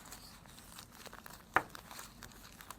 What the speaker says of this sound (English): We pack it with the oil paper.